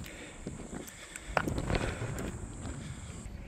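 Strong wind buffets the microphone on a steep mountain trail between Anmin Pass and Ungsan, a steady low rumble with gusty swells and a few brief knocks and footfalls.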